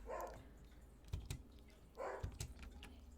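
A dog in a Minecraft game gives two short, soft barks about two seconds apart, with computer keyboard typing clicking between them.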